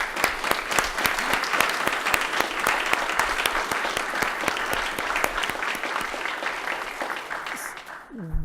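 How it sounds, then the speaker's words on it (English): Sustained audience applause at an academic celebration honoring a computer science professor, dense steady clapping from a large crowd for about eight seconds, fading at the very end. "So I'd like to give them a round of applause."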